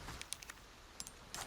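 Keys jangle in Resident Evil 4, a few short, faint metallic clinks in separate bursts with quiet gaps between.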